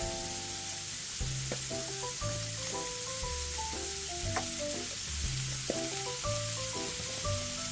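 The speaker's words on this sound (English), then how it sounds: "we're just gonna cook this onion and mushroom. We're gonna put a little bit of oil" Onion and mushroom fry in a little oil in a pan, giving a steady, close sizzle that runs the whole time while something else plays over it.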